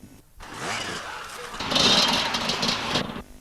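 Husqvarna and KTM enduro motorcycles revving on a 1997 course, engines rising and falling nearby, briefly cutting out, then swelling louder as the bikes pass through.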